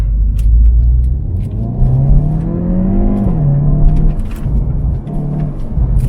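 A Hyundai Veloster N in N mode revs hard up through the gears, its engine note rising then dropping at a paddle shift. The engine roar is loud and close, with sharp exhaust pops crackling throughout.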